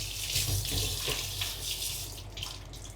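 Parsley leaves rinsed under a running kitchen tap, a steady close splash of water over the sink with small fluctuations as the leaves are moved through the stream.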